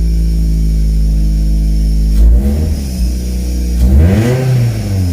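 Toyota MR2 engine running with a deep, loud idle rumble, revved twice in rising and falling surges, close and alone without talk.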